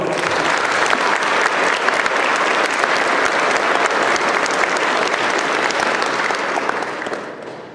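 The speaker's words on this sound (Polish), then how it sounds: "Duże brawo!" Sustained, loud applause from a concert audience at a New Year's concert, steady clapping filling the hall for several seconds before tapering off at the end.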